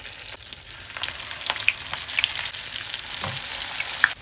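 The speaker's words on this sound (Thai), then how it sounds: "ตั้งกระทะใส่น้ำมัน แล้วนำลงทอดได้เลยค่ะ" Steady crackling sizzle of chive dumplings filled with bamboo shoots deep frying in hot oil, with scattered pops and small splatters throughout, close by and moderately loud.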